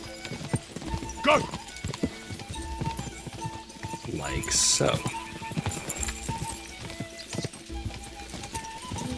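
Horse hooves clip-clopping at a gallop during a race in the video game Kingdom Come Deliverance II, a steady rapid beat with occasional whinnies, under continuous game sounds and someone talking excitedly.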